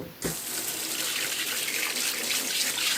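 A kitchen tap turns on suddenly and water gushes steadily into a sink while lemons are washed, a close, continuous splashing hiss with no talking.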